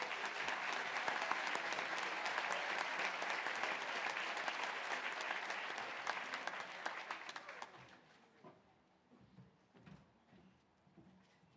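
Audience applause at the Johnson College 2025 commencement ceremony, a full sustained round of clapping for about eight seconds that tapers into a few scattered claps and faint crowd noise.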